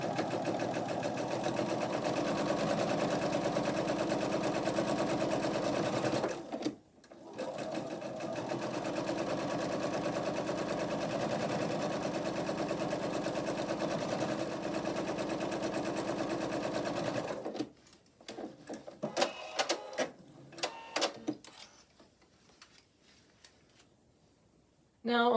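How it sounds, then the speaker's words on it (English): A sewing machine stitches quilt block pieces in a steady close whir, pausing briefly once before resuming, then stopping as soft clicks and handling sounds follow. "I'll feed the next one in, and I'll continue till I have all 4 of my sets sewn."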